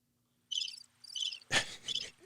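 Crickets chirp in a sparse crickets sound effect: two short, high trills, then a louder, fuller burst and one more chirp, all in near silence with no voices.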